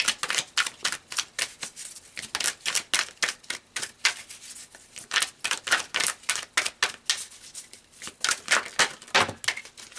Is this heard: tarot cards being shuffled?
yes